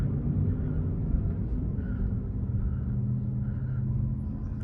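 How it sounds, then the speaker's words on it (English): A lifted Chevy truck drives past at night, giving a deep, steady engine rumble with a faint whine on top that holds throughout at moderate loudness. "There goes a lifted Chevy that sounds good."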